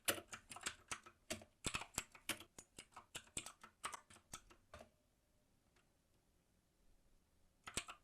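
Fast, crisp keystrokes on a computer keyboard, close up, running in an irregular burst for about five seconds, then near silence before a couple more taps.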